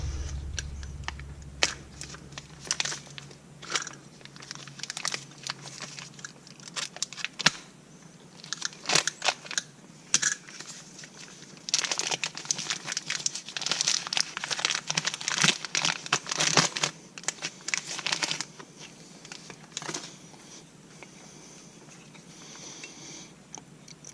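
Packaging for new car disc brake pads being opened up close, a long run of loud crinkling, crumpling and tearing of cardboard and plastic, busiest in the middle and tapering off at the end.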